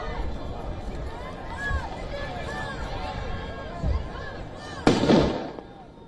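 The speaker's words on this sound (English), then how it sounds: "demonstrators fired fireworks as they clashed with police" Fireworks go off during a street clash between demonstrators and police, with a sharp loud bang near the end over a hubbub of crowd chatter, shouts and running.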